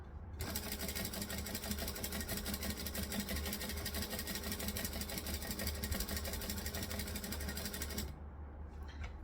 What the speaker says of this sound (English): Now I'm top stitching this backwards to the way I normally would.